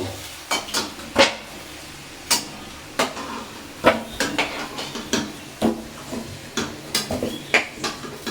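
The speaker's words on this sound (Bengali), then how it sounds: "একটু লাল লাল করে ভাজা হোক" Potatoes frying in a pan and being stirred, with a soft sizzle beneath a series of sharp, irregular clinks and scrapes of the utensil against the pan, roughly one or two knocks per second, close and clear.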